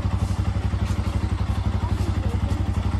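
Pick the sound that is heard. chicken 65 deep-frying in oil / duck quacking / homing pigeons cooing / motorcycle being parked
motorcycle being parked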